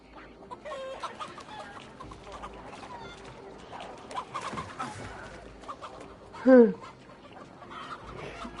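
Chickens cluck in the video game Assassin's Creed Valhalla, with scattered bird calls over steady game ambience and one loud, brief squawk near the end; voices talk at times.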